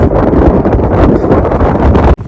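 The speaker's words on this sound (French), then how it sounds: "Je sais même pas si vous entendez avec le vent." Wind buffets a microphone outdoors, a loud continuous rumbling roar that ends abruptly near the end.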